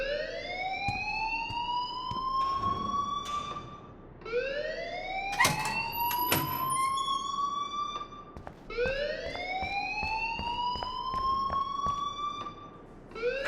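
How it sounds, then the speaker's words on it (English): A shrill electronic alarm in the Life Is Strange video game repeats in rising, whooping sweeps, each cycle a few seconds long, loud and steady, with faint clicks underneath and no talking. "please turn off that alarm since that's your job"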